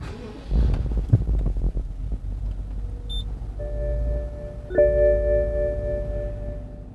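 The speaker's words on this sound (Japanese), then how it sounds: "ではエンジンを始動していきます" A 2013 Alpina B5 Biturbo limousine engine starts with a few cranking clicks and a low rumble, then a brief rise before settling into a steady idle with tonal whine.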